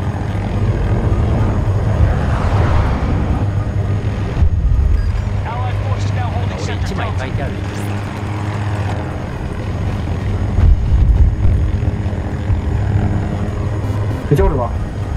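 An AH-6 helicopter in Battlefield 2042 hovers with a steady rotor drone throughout, under overlapping voices talking and game sounds such as gunfire.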